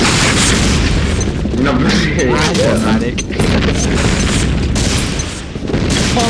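A grenade blast in a video game, a loud booming explosion with heavy low rumble filling the scene, accompanied by continuous gunfire and chaotic noise while a player briefly speaks over it.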